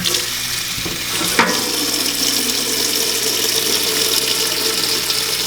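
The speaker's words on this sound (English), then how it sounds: "I'm gonna go fill this with like warm water so it can start brewing." Warm tap water running into a container indoors, a steady hiss of water with a faint clunk near the start.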